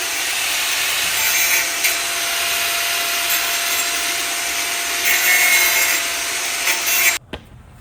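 An aftermarket exhaust header for a 1981 Mazda RX7 is cut down by a couple of centimeters, giving a loud, continuous grinding rasp that runs steadily for about seven seconds before stopping abruptly.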